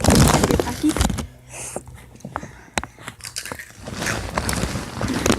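Crunchy, spicy rolled Takis tortilla chips are bitten and chewed with a loose tooth, loud crisp crunches clustering at the start and again near the end, with softer chewing and some talking in between.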